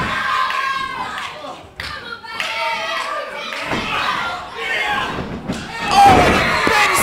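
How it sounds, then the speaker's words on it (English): Wrestlers slam heavily onto the ring canvas at a live wrestling show in a sold-out hall. Several sharp thuds land amid crowd cheering and clapping, while a commentator talks throughout. "A sling blade from the 19-year-old superstar."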